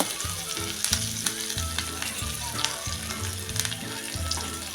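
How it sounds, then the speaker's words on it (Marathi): Asafoetida and sliced green chili sizzle in hot oil for a tempering, a steady close frying hiss with faint stirring scrapes and a few crackles, no talking. "ही फोडणी चांगली परतून घेऊया"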